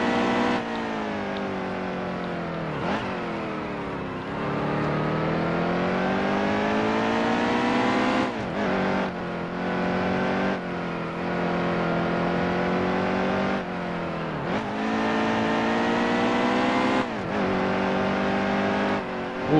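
A NASCAR Heat 2 race car engine drones loudly and steadily at close range, its pitch rising and falling as the throttle eases and reapplies through corners, with no talking over it.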